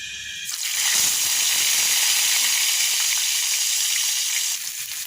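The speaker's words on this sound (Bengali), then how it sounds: "তেল গরম হয়ে গিয়েছে। এখন মাছগুলো ফ্রাই করে নেব।" A loud, steady sizzle of frying in hot oil bursts up and hisses continuously, close and bright, then eases slightly near the end.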